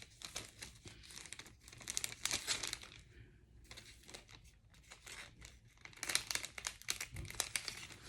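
Makeup tape packaging being crinkled and handled up close, bursts of crackling plastic and tearing rustles separated by quieter pauses, with no talking.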